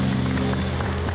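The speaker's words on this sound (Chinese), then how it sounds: "掌声鼓励一下" An audience at a Lai Ching-te campaign rally in Taiwan breaks into applause, a brief, dense wash of many hands clapping at once in a large crowd.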